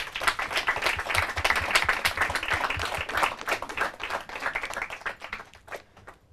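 A studio audience at a Portuguese-language quiz show applauds with steady, full clapping that builds, holds, then tapers off near the end.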